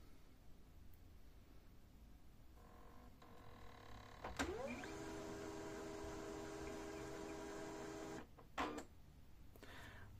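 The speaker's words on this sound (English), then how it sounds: "So power on the printer." A Xerox Phaser 3020 printer powers on: a sharp click, then a steady motorized whir with rising tonal hum that runs for several seconds before a couple of short mechanical clunks near the end, close and fairly quiet.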